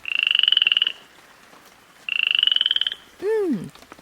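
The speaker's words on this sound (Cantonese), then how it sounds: "係青蛙嘅唱歌聲啊！" Two long, rapid pulsing frog croaks with a pause between, followed by a quick swooping tone that drops in pitch; loud and close.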